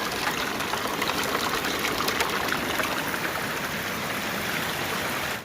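Water runs and splashes steadily while creek gravel is wet-classified at a gravel bar, producing a loud, continuous broadband rush with no talking.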